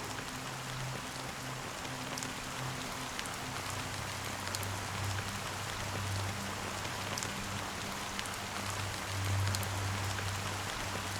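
Steady rain falling in the game Honkai: Star Rail, a constant soft hiss with a low droning hum beneath it, even and unbroken throughout with no voices.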